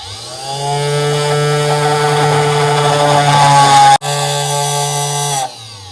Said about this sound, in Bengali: এই পাইপটাকে আমি ফুটো করবো এখন